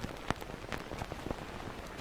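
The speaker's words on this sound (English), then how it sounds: "Rain exploded and the wind whipped the ground and roared like a phantom lion." Storm rain pouring down with wind, a steady dense hiss of drops spattering on surfaces with scattered sharper splashes, fairly faint and continuous without any voices.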